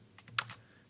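A short burst of typing code on a computer keyboard, three or four quick, close, quiet key clicks in under a second, with no voices.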